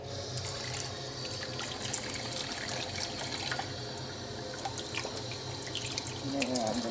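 Hot water runs steadily from a tap into a sink, a constant broadband rush with small splashes, heard close and continuous while someone speaks faintly in the background.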